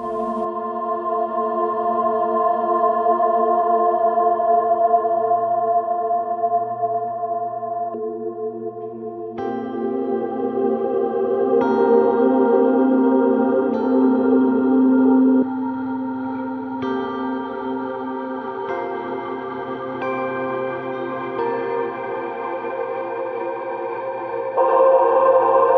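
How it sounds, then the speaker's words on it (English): Guitar played through Strymon Big Sky choir-style reverb settings on a Line 6 Helix: sustained chords swell into long, shimmering, choir-like washes with echoing tails, changing chords every few seconds, loud and with no speech. "you find some really, really amazing reverb sounds in that kind of way"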